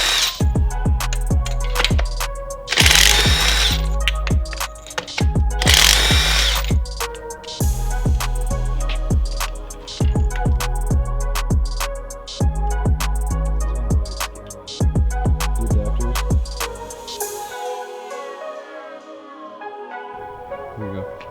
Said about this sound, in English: let's get plugs and stuff out of this